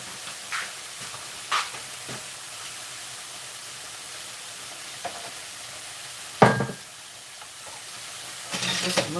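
Pasta, cabbage and bacon frying in a pan under a soft steady sizzle, broken by occasional scraping stirs, one louder clatter midway and a brief burst near the end, with no voices.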